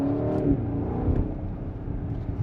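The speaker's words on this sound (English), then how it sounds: "The exhaust is definitely a little bit louder, and the revving is actually a little bit faster." The exhaust of a 2024 BMW 760i xDrive revs in sport mode, quick rising and falling engine pulls close by with a throaty tone over a steady idle underneath.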